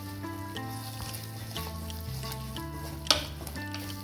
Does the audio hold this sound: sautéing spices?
yes